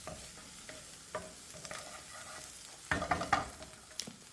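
Onion frying in a pan as it turns translucent, a soft continuous sizzle with scattered stirring scrapes and a louder burst of clatter partway through, close and quiet.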